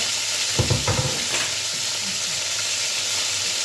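Potatoes frying in a pan give a steady, dense sizzle that holds throughout, close and fairly loud, with a couple of brief low knocks near the start.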